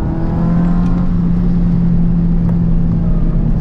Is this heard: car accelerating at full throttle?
yes